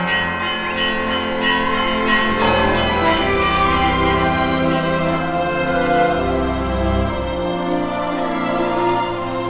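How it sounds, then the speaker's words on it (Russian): Fourteen church bells of the New Valaam monastery in Finland ring out in overlapping, resonant peals, rich and sustained, with several strikes blending together at close range. "Звонницу оснастили 14 колоколами, вывезенными с Валаама"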